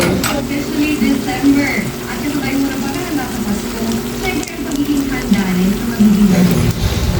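String beans cooking in a pan for adobong sitaw with oyster sauce, a loud continuous sizzle and frying hiss under a person talking.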